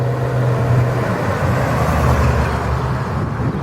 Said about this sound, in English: And there goes that Mustang.